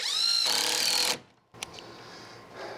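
A power driver sends a screw into a rafter of a gable shed roof, whirring loudly for about a second before stopping, followed by faint knocks and handling noise.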